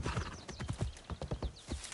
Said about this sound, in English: Horse is not liking this.